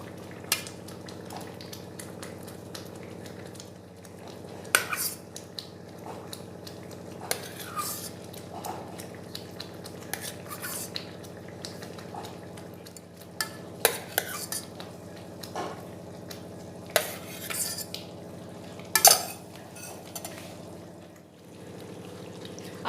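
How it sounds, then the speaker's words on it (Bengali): Fried potato and cauliflower pieces are stirred into cooked-down masala in a pan, the spoon clinking and scraping against metal in scattered sharp knocks over a low, steady sizzle, with no talking. "এবারে ওতে দিয়ে দেব ভেজে রাখা আলু ও ফুলকপি।"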